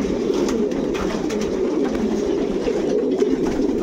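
Racing pigeons coo steadily inside a loft after a 500 km district race, with continuous overlapping calls at moderate, close range and no talking.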